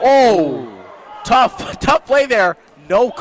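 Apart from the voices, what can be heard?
No distinct noise like a dog, phone or traffic.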